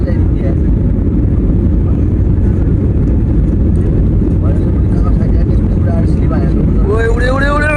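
An airliner accelerating for takeoff, heard from inside the cabin as a loud, steady low-frequency engine roar and rumble throughout, with excited voices talking over it near the end.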